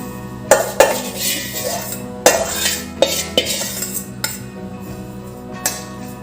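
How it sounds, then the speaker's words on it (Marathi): Semolina stirred and roasted in an oiled kadai over a low gas flame, a spoon scraping and knocking against the metal pan in irregular clinks and scrapes, close and fairly loud. "कमी गॅसवर आपण सारखे परतवत राहू हा रवा छान लालसर असा भाजून घेऊ"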